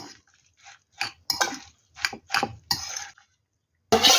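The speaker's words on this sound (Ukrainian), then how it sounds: "Це все теж гарно розмішуємо." Utensil scraping and clinking against a bowl while a cauliflower mixture is stirred in a home kitchen, coming in short irregular bursts with brief pauses and a louder clatter at the end.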